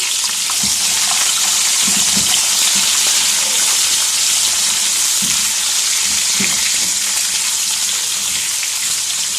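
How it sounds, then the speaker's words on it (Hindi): Chopped capsicum sautés in a hot pan as a loud, dense, unbroken sizzle with a watery hiss, and occasional low thumps of stirring sit beneath it, with no voices. "अब इसके अंदर मैं शामिल कर दूंगा ये 2 बड़ी शिमला मिर्चें"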